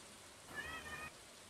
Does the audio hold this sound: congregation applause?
no